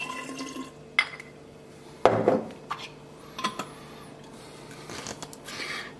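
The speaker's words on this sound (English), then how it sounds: "I'm going to pour just a bit of wine into the tomato container" Wine trickling from a bottle into a nearly empty tomato container in a home kitchen, a short splash of pouring between light clinks of the container and utensils, close and fairly quiet.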